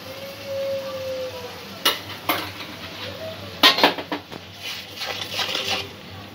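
Spice mix for a potato curry (aloo dum) being stirred in a pan, with a few sharp utensil scrapes and clinks against the metal over a low steady background hum, close by and moderately loud.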